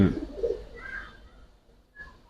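A female Giribaz pigeon gives a brief, low, soft coo up close, followed by a faint trailing murmur and a small chirp-like sound near the end.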